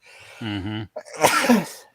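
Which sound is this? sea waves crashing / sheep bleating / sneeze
sneeze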